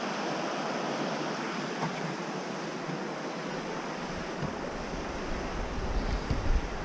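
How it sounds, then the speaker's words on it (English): The Cle Elum River rushes steadily past a trail crossing, making a broad, constant roar that fills the scene, with a faint rumble of wind underneath. "That would be the Cle Elum River crossing."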